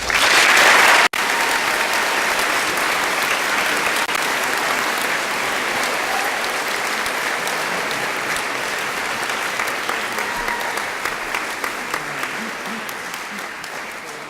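Audience at a middle school eighth grade recognition ceremony applauds two award recipients, a steady broadband clapping that starts abruptly, stays loud and continuous, and tapers slightly toward the end.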